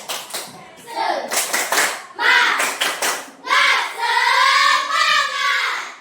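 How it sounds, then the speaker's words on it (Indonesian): A school class performs a rhythmic spirit clap, quick bursts of clustered hand claps interleaved with children's chanted calls, near and lively. "Ya, tepuk semangat."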